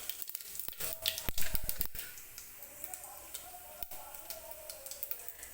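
Mustard seeds crackle in hot oil for a Marathi-style tempering, a quiet stream of sharp irregular pops and ticks with a denser burst early on and a soft sizzle underneath.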